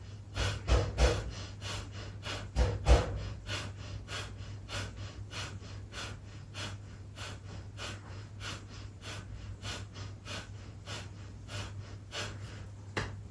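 Kundalini yoga Breath of Fire: rapid, even, forceful breaths through the nose, pumping in a steady fast rhythm for the whole stretch, close and clear, with a low hum beneath.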